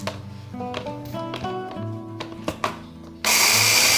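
Rice and spices are ground in a blender: a stretch of clunking, rattling motor noise with tapping, then a sudden loud, steady whirring roar near the end.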